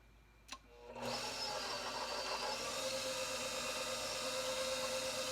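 An electric stand mixer starts after a brief knock and then runs with a steady whirring drone as it kneads yeast roll dough made with shortening, continuous and fairly close with no talking.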